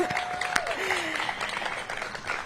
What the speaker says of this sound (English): Let's give Mayor Bowser a round of applause